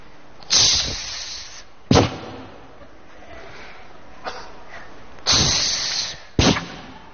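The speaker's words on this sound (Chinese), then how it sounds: "先放个小鞭儿" Small firecrackers go off at a festive variety-show celebration, four sharp bursts with crackling tails, some close and loud, one fainter pop between them, and no talking.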